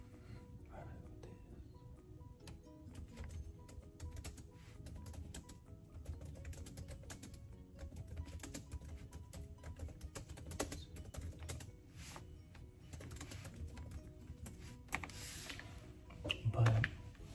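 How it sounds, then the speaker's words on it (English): Fingers tap on a computer keyboard in quick, uneven runs of soft clicks, close by and steady, with a person talking over much of it. "Just tired and typing."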